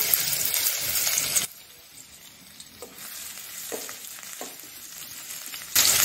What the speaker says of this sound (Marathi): कांदा थोडा गोल्डन होईपर्यंत आपण परतून घेणार आहोत।